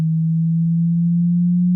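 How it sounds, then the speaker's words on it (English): A gravitational wave signal turned into sound: one smooth, steady low tone held for almost two seconds, loud and alone. "So this is the sound of the gravitational wave signal."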